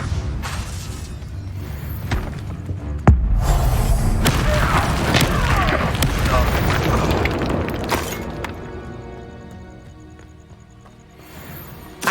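Fiery spell blasts in Hogwarts Legacy: a sudden loud boom near the three-second mark, followed by roaring, crackling bursts that sustain for several seconds, then fade to quieter game ambience with a small final thump.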